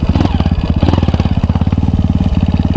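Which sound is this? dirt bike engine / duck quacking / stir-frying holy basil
dirt bike engine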